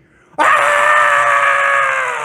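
A preacher imitates a child yelling in a tunnel, letting out one sudden, sustained, loud scream. It starts abruptly after a near-silent moment and holds steadily to the end.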